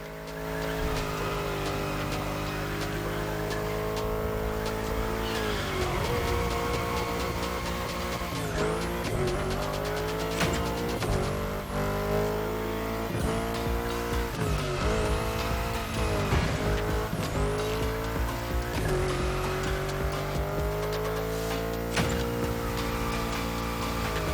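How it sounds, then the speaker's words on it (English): Tires squeal steadily through a long drift in The Crew Motorfest, the engine note rising and falling with throttle changes and game music running underneath, loud and continuous. "That's a proper drift"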